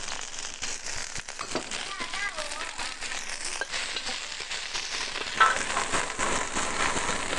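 Coriander stems and aromatics sizzle and crackle in hot oil over medium-high heat while cooking a Cantonese beef brisket stew, a steady close frying hiss with faint voices underneath.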